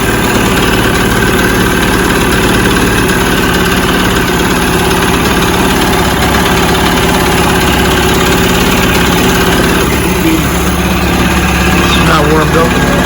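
A 1973 Mercury 40 hp Model 402 outboard motor runs steadily in forward gear, with a loud, continuous low engine drone and vibration from start to finish.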